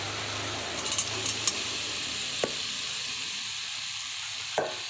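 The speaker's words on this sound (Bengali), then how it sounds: "কষা হয়ে গেছে, এবার আলু ফুলকপি ভাজাটা দিয়ে দেব।" Fried potato and cauliflower sizzling in a pan for a home-cooked curry, a soft steady hiss at low volume with a few light clinks of a spoon against the pan.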